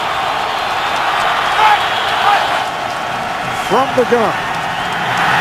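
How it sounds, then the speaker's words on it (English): Stadium crowd at an NFL game cheering the Jets defense on a third down, a steady roar of many voices filling the whole stretch, with a commentator talking over it. "3rd down and 9, and this crowd cheering on the Jets defensive unit."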